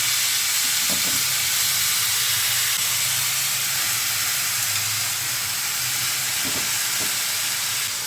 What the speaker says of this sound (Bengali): এবারে আমরা শাকটা ছেড়ে দিচ্ছি। একটু নেড়ে দিই।